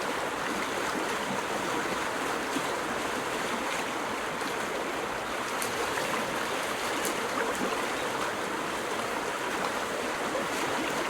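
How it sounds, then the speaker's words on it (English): Moonlit waves of the Vltava river in Prague lap and rush in the adventure game NiBiRu: Age of Secrets, an even, steady wash of flowing water with no voices. "Latava's waves are glittering in the moonlight."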